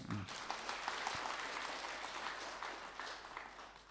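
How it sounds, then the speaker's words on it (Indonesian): Audience applause at a spiritual study talk, a steady wash of clapping from a crowd filling the whole clip at moderate level with no voices over it. "Tepuk tangan dong"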